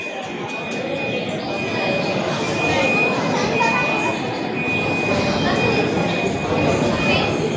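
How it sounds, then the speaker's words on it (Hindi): An underground metro train in Mumbai rumbles steadily into a station, a continuous loud roar with a thin high whine and crowd murmur underneath. "ट्रेनचं आगमन होतं आपल्या स्टेशनला."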